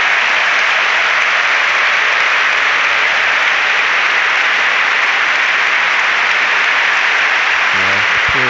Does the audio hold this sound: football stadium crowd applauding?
yes